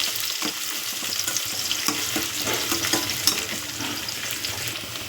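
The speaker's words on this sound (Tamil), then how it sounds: "நல்லா வெங்காயம் வந்து வதங்கட்டும்." Sliced onions and curry leaves frying in oil in a pan for an aubergine thokku, a dense continuous close sizzle with occasional stirring scrapes, no voices.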